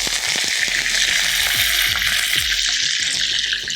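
Curry leaves crackle and spit as they drop into hot tempering oil with mustard seeds and cumin, giving a loud, steady sizzle with sharp popping bursts throughout.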